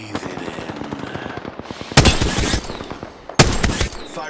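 Video game gunfire rattles in fast automatic bursts, with heavy loud volleys near the two-second mark and again around three and a half seconds, under a busy game soundscape.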